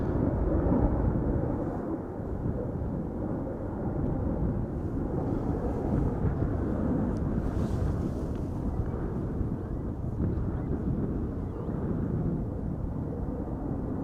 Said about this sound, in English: The wind is blowing in this direction, so we do get the audio a bit better